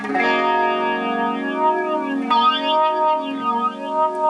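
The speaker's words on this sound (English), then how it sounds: "Let's set this back to flange." A sustained, harmonically rich guitar-like tone through a Moogerfooger MF-108M Cluster Flux set to flange, with a slow sweeping, whooshing modulation, continuous and fairly loud with no talking.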